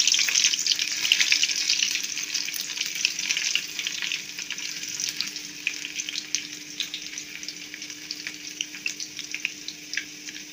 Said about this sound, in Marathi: मोहरी चांगली फुटत आहे, त्याच्यामध्ये लसणाचे बारीक केलेले तुकडे टाकले